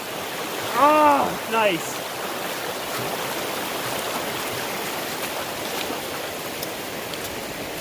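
Small mountain creek flowing near Cataract Pass, a steady close rushing babble throughout, with a dog whining briefly and a person speaking a few words over it.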